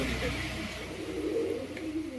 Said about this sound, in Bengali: এখানে একটা পায়রা রোয়ান ধরেছে